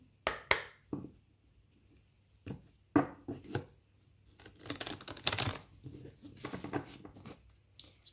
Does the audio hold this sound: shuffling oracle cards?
yes